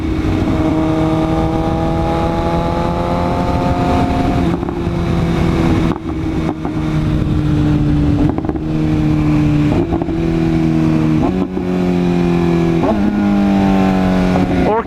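A Toyota Supra fitted with an SC Project CR-T exhaust revs loudly and continuously up close, its engine note rising and dropping through repeated pulls with sharp breaks between them.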